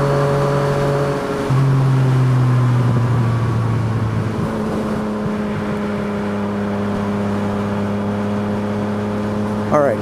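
A car with a newly fitted exhaust revs close by. Its engine tone climbs and falls through a few pitch steps and then settles into a steady, loud drone.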